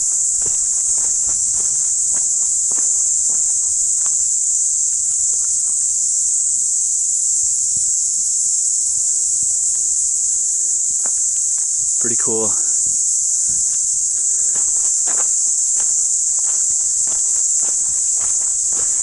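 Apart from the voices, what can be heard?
cicadas buzzing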